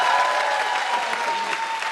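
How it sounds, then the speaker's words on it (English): A crowd at an award ceremony bursts into loud, continuous applause, the close, dense clapping sustained for the whole clip with faint voices mixed in beneath it. "You have to keep clapping. You can't stop."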